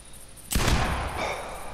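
A .50 inline muzzleloading pistol in theHunter Classic fires a single loud, sharp report that rings out and decays slowly into a long tail, with no voices heard.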